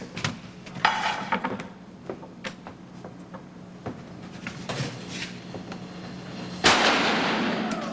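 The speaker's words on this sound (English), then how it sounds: "Look at the little firecrackers we just made." A string of small homemade firecrackers goes off in scattered sharp pops and crackles, irregular and fairly faint, with one louder bang near the end followed by a fading hiss.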